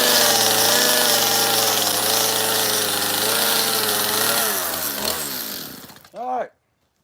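Close, loud chainsaw with a steady harmonic engine drone while carving a small wooden bear, revving down unevenly near the end, then a brief final rev and sudden silence.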